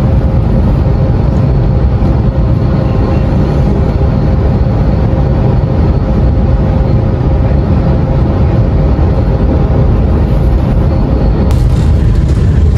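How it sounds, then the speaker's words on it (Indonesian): Purwojaya passenger train passing straight through Matraman station, a loud continuous low rumble and roar throughout, steady with no break, close by. "Kereta api Purwojaya melintas langsung stasiun Matraman"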